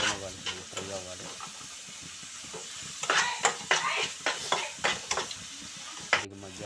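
Tomato pieces cook in a pan with a soft sizzle and hiss, broken by repeated clanks and scrapes of a spoon stirring, close by, with a voice speaking at the start and end.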